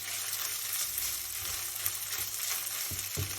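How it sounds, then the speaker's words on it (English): Onions and minced meat stirred in a frying pan, a dense continuous sizzle with occasional scraping strokes of the spoon, close and steady, no voices. "So you turn in the ingredients well so that they may blend well, the onions and the minced meat to blend well."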